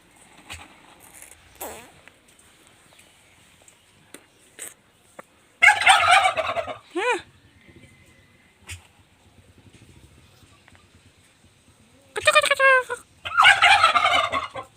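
Turkeys gobble in several loud, rapid bursts, one pair close together and another near the end, with quieter calls and rustling in the gaps between them.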